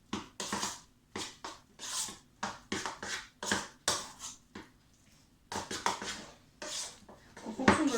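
Two preparations are stirred together in a bowl, with a rapid run of clinking utensil strikes against the dish, briefly pausing before resuming, close and clear with no talking.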